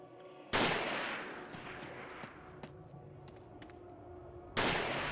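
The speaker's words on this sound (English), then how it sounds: "Get 4 shots out of this guy." Two loud, close gunshots in the horror video game Siren, one near the start and one near the end, each with a long reverberant tail over a low ambient game background.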